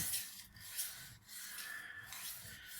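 A kitchen knife scrapes back and forth on a budget sharpener in short, even rubbing strokes, faint and close, with no talk.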